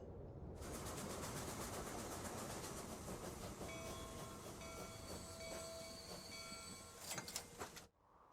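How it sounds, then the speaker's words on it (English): A train in the Transport Fever 2 simulation game rolls steadily across a bridge, a continuous loud rumble with rhythmic clicking wheels and faint metallic tones, fading out sharply near the end. "Where is that train of sugarcane? Oh, it's on the bridge just before"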